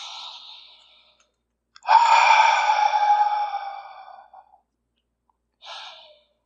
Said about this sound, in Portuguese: eu vou convidar você a respirar profundamente.